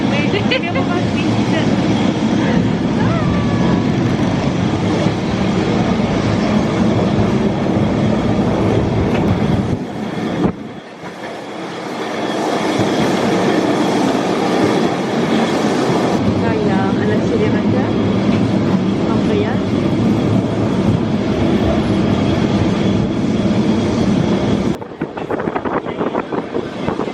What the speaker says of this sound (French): On va monter dans le tramway numéro 28.